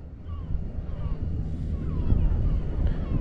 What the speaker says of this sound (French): alors il y a beaucoup de vent hein